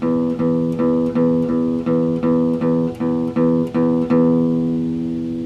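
An acoustic guitar chord strummed down and up in an even rhythm, about ten bright strokes with steady attacks, each ringing into the next, the last left to sustain and fade.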